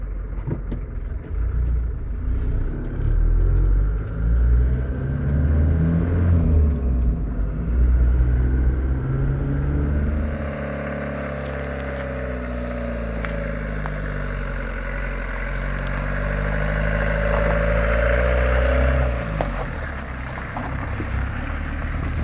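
A 1983 Ford Transit diesel camper drives along, its engine a low steady rumble with shifting pitch as it changes speed, heard from inside the cab and loud throughout, no voices.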